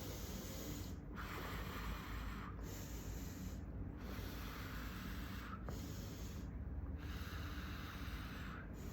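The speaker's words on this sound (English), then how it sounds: "breathe in through your nose, out through your mouth, in and out through your nose" Slow, deliberate breaths taken in through the nose and let out through the mouth during a fascial stretch class, several soft airy exhales repeating every second or two, close and quiet with no talking.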